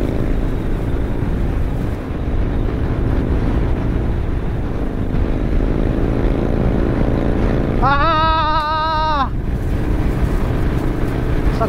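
A vehicle engine is held at full throttle in a steady, loud drone, with a brief high whining burst rising near the end before the drone resumes.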